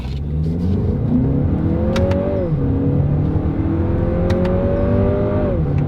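A Lexus RX 350 in sport driving mode accelerates hard with paddle-shifted gears, its engine note climbing steadily and dropping sharply at two upshifts, loud and close with no talk.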